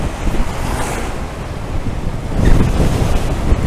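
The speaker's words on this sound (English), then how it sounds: "it's blustery. They say it's up to 40-45 mile an hour at times" Strong, blustery wind gusting up to 40-45 mph in Lowestoft roars across the microphone in heavy buffeting rumbles, swelling louder in the second half.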